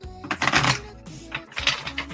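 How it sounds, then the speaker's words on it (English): Large new tarot cards are shuffled in a couple of crisp riffling bursts, close and moderately loud, with a brief pause between them. "They're really hard to shuffle."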